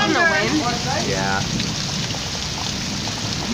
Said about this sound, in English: so rain coming down. On the wind.